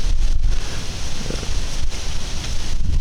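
Strong wind buffets the microphone in an open Ohio farm field beside cut beans and standing corn, a loud continuous low roar with gusty swells and no voices.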